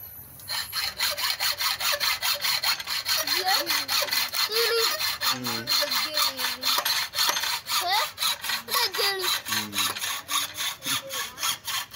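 A saw works through iron in a blacksmith's workshop, with steady, rapid back-and-forth strokes that rasp loudly and evenly throughout, while faint voices murmur in the background.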